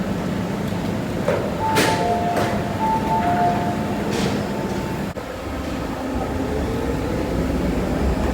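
A train standing at Chai Wan Station platform, steady rumble and hiss of the carriages with brief two-tone chimes and a door thud midway, continuous and fairly close throughout.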